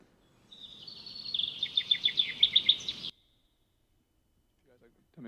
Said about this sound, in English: And finally square is for bird.